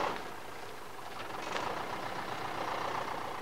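A tractor pulling a fertiliser spreader drives across a dry field on normal tyres, giving a steady, moderately loud engine drone with broadband rumble and no talk.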